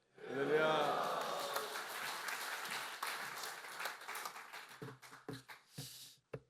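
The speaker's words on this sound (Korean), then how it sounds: "할렐루야로 하나님께 영광 돌리며 박수로 환영하시겠습니다." A church congregation at a prayer meeting claps in welcome, a swell of applause that rises quickly then thins into scattered separate claps toward the end, with voices mixed in early on.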